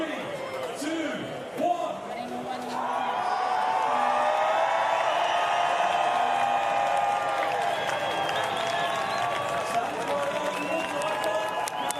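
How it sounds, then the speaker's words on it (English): A crowd at a Paralympic rowing finals event in Paris cheers and applauds in a sustained, swelling roar after a brief quieter start, with an announcer's voice over it and tonal sounds running through the noise. "the crowd just getting a little bit louder and a little bit more excited"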